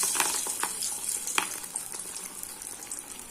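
Masala vada dough balls frying in hot oil in a kadai, a steady bright sizzling hiss broken by scattered crackles and pops, close and continuous with no voices.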